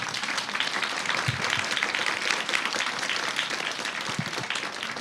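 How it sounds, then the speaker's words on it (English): Audience at an architecture festival applauding panelists after a session, steady dense clapping filling the room throughout. "I think that they own a really big applause from the audience."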